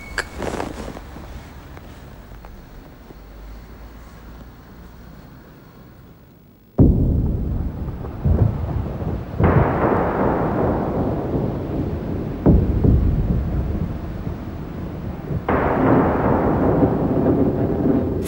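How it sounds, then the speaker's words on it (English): Thunder cracks and booms through a gathering storm, first as a low background rumble, then as several loud, sudden claps that roll away between strikes. "Thunder cracking, storm clouds gathering."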